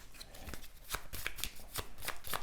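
A deck of playing cards being shuffled during a solo game of the card game Eternitium, a close, crisp series of riffling flicks in a quick, steady rhythm.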